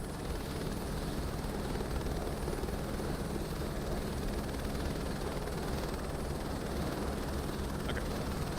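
A helicopter in Microsoft Flight Simulator 2024 drones steadily, a dense continuous rotor and engine roar that holds unchanged throughout, alone without talk.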